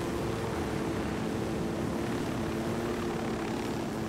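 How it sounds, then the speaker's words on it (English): Helicopter in the Ghost Recon Wildlands video game, a steady loud rotor and engine drone holding constant throughout with no pauses and no talk. "Got another chopper here, mate."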